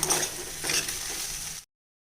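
Lemon rice with lemon juice, turmeric and asafoetida is stirred in a pan, a close, scraping, sizzling mix lasting under two seconds before cutting to silence.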